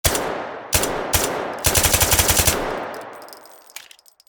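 Suppressed gunshots from a handgun inside a narrow warehouse in the VR game H3VR, a few loud cracks followed by a fast burst of rapid shots, each with a reverberant tail that fades into faint clinks.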